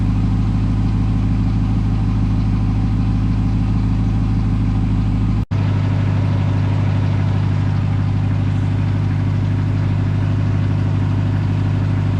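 A Ram TRX engine idles steadily and close up after an AMSOIL oil change, a continuous deep rumble with one brief click midway and no talking.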